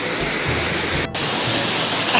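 A waterfall at the 13 Falls trekking area in DRT, Bulacan, pours as a steady, loud, broad rushing roar that fills the whole clip without a break.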